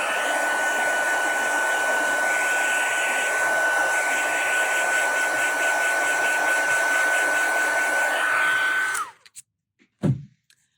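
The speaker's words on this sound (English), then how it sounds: "I'll use my hair dryer." A handheld hair dryer blows steadily and loudly for about nine seconds with a constant whine, then cuts off, followed by a couple of faint handling knocks.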